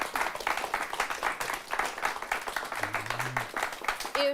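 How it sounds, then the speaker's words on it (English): An audience at a town hall on youth mental health claps together, a dense, continuous round of applause at moderate distance lasting the whole stretch. "yourselves a round of applause, would you guys?"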